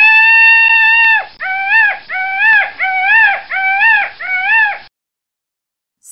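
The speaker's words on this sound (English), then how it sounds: "Peacock." A peacock lets out one long, loud, wailing call, then a run of five shorter, similar cries in a steady rhythm, and then goes silent.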